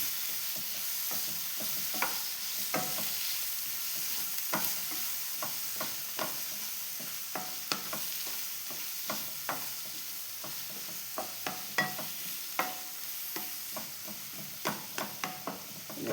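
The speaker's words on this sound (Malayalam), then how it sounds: "നല്ലോണം വരക്കി വെക്കാം" Papaya masala curry base sautéing in a pan, a steady soft sizzle broken by frequent scraping clicks of a spoon stirring, close and clear with no talking.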